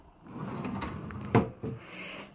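A large drawer of a roomy bedroom chest of drawers slides open with a rubbing wooden scrape and a sharp knock near the middle, then a softer bump, close and fairly quiet.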